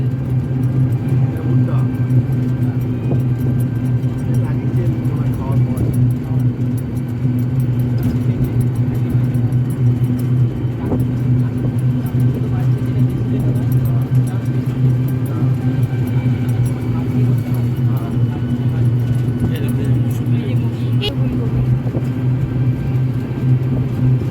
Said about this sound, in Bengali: টোটোতেই যাচ্ছি